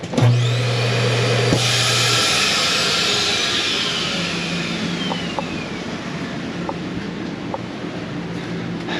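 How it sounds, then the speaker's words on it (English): A loud, steady built-in RV central vacuum system motor whines continuously, with a high rushing hiss and a few faint clicks along the way; no one speaks. "this Nobo also has the built-in road vac system, so you can vacuum out your entire unit"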